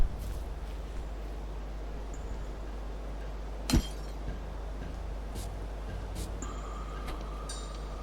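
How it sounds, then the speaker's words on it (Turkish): A glass window breaking in a video game, a single sharp crash with a short burst of shattering midway, followed by faint tinkling pieces over a low steady background hum. "Anladım camı niye kırdım o zaman?"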